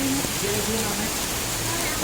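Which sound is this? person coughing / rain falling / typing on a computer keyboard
rain falling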